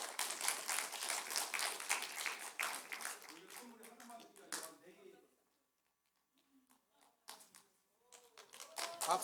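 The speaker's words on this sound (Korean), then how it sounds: "박수 쳐주세요." Korean church congregation clapping during a Sunday afternoon service, a burst of lively applause that fades into quiet with scattered murmuring voices, then a few claps and talk return toward the end.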